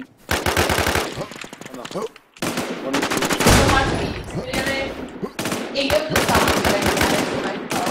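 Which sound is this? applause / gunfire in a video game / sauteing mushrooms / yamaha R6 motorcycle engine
gunfire in a video game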